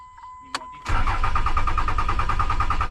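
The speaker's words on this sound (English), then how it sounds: "Truck doesn't want to crank up anymore." A truck's starter motor cranks steadily and loudly at close range in a rapid, even whirring rhythm after a faint chime and click, without the engine catching.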